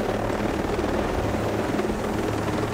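Helicopter landing in Ghost Recon Breakpoint: dense, steady rotor roar with low thumping beat, loud and continuous for a couple of seconds, no talk.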